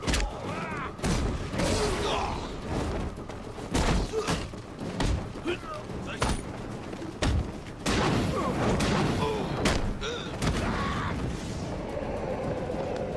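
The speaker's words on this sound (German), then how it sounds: "Die Schüsse, Alter." Bursts of gunfire crack and thump repeatedly in the Batman Arkham Knight video game, sharp shots scattered across the stretch with booming impacts, partly under someone speaking German.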